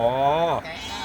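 A sheep gives one wavering bleat, loud and close, lasting about half a second before fading into a faint outdoor background.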